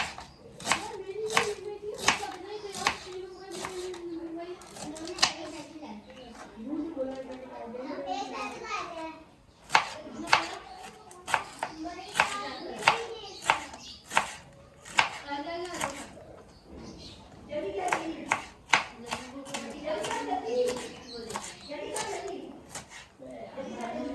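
Rapid knife chopping of cabbage on a board in repeated bursts, with people talking over it and a voice nearby.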